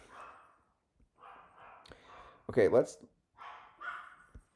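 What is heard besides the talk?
dogs barking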